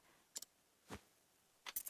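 Keys jangle in the role-playing game Octopath Traveler 2, three short metallic bursts spaced apart with quiet between them, soft and close.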